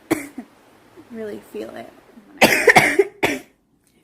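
A girl coughs harshly in a short burst of several rough coughs after a few quiet spoken words.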